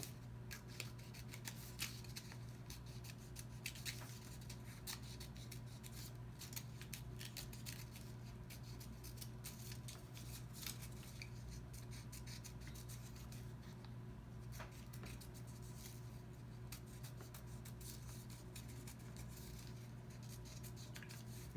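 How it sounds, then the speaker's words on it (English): Scissors snip steadily along the edge of a paper Mobius strip, a continuous soft cutting and rubbing texture with faint clicks, close and quiet over a low steady hum, no talking. "I'm cutting now the Mobius strip"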